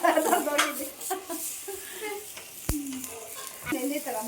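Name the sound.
obbattu sweet flatbread cooking on a griddle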